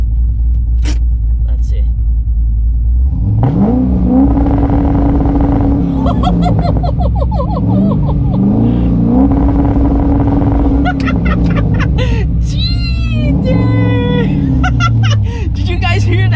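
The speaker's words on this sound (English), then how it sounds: "I'm gonna stop here and do the first rev." C6 Corvette with a 2-step launch control system revs at a stop: a deep idle rumble swells into repeated rising revs, loud and close, with a voice speaking briefly over the engine.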